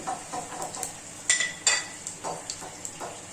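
Mustard seeds spluttering in hot oil, a quiet scatter of irregular crackles and pops with a few sharper snaps near the middle.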